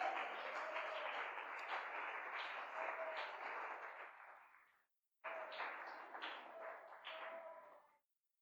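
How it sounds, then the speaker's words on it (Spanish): A church congregation at a service breaks into steady applause that swells, fades out after about five seconds, then resumes in a shorter second burst before dying away. "Creo que eso se merece un aplauso."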